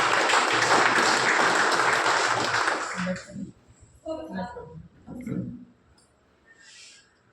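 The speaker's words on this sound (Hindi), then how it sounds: "मैं चाहूंगा जोरदार ताली होनी चाहिए।" Loud, dense applause fills the first three seconds, then cuts off, followed by a few scattered voices and quieter sounds.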